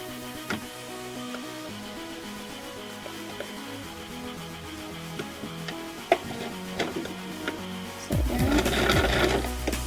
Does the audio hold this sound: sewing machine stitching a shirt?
yes